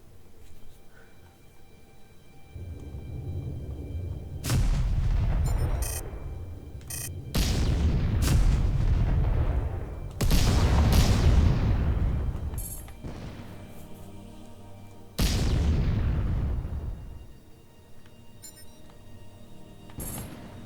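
Artillery fire in the space combat game Freespace: Between the Ashes, heard as a series of heavy booming blasts, each swelling and then trailing off, spaced a few seconds apart against a low background hum.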